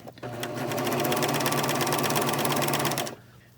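A serger sewing machine runs steadily for about three seconds, stitching across the point of a fabric baby bandana bib. It whirs close and even, then stops.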